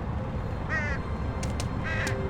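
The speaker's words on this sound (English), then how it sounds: "Is that a crow or a magpie? I think it's a magpie." In the video game Elroy and the Aliens, a magpie gives two short bursts of harsh, raspy chattering calls, clear over a steady game background hum.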